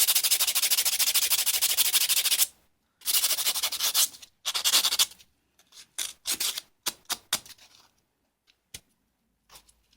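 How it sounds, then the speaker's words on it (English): A buffer block rubs and scrapes across acrylic nails in a quick, dry, steady scratching stroke, close up. After a short break, a few shorter, intermittent rubs follow and fade to sparse taps. "I will just buff and file and then buff and file until I get my desired look"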